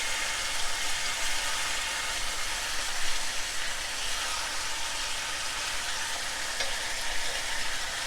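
Pork chops brown in a large garlic skillet with a loud, continuous close sizzle and spitting fat, steady throughout with no speech.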